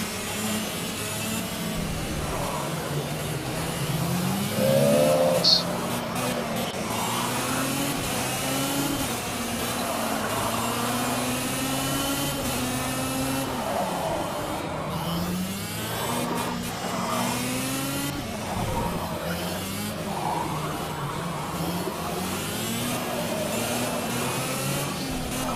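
Race car engine under gentle throttle in the Project CARS racing game, a continuous droning engine tone with shifting pitch and steady loudness throughout, no voices.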